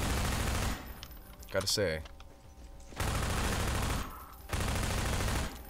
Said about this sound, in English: This machine gun is doing work for me.